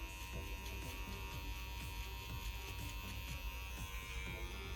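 Steady close-up buzz of hair clippers during a clipper-over-comb taper haircut, with irregular soft rustling strokes through the hair under the constant motor whine.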